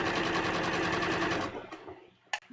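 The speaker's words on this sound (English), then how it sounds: "And I'm just going to sew" A sewing machine runs in one loud, steady buzzing burst along the neckline of a bias-cut V-neck dress, then stops abruptly, followed by a few faint handling clicks and a sharp knock.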